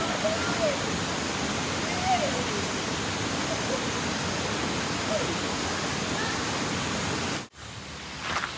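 Steady rushing water fills the scene, a continuous broad roar like a river flowing nearby, with faint bird chirps on top.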